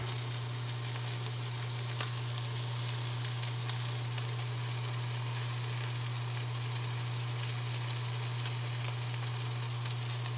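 Wagyu steak sears in butter on a pan near 500 degrees, giving a steady, close, even sizzle with a low constant hum underneath and no talking.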